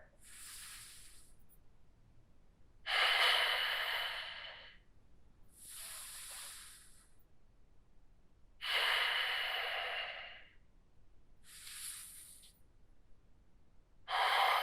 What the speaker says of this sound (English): You're breathing deeply.